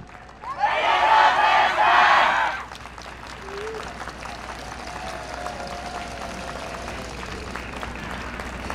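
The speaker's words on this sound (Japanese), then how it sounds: "もう一度盛大な拍手でお送りください。" Audience at a yosakoi dance performance during the Kyoto Sakura Yosakoi festival breaks into loud, dense applause for about two seconds, then fades into a quieter murmuring crowd.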